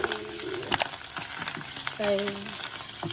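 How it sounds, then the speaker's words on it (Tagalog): Spaghetti cooking in a pan gives off a steady sizzle and frying hiss, with a few sharp stirring clatters and a brief tonal squeak partway through. "now we're cooking spaghetti"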